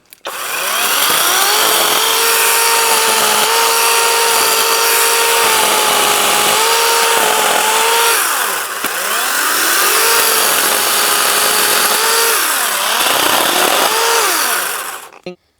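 Small emergency chainsaw, the SeeSii model 160, limbing and trimming tree branches: a loud, close motor whine that holds steady, then dips and rises in pitch as the chain bites into wood, running nearly nonstop alone.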